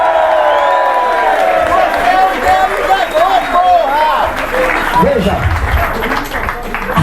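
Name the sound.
crowd applause and cheering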